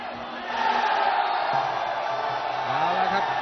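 A stadium crowd roars steadily through a Muay Thai bout, a dense, continuous wall of cheering and shouting that swells early and holds loud, with a few voices calling out above it.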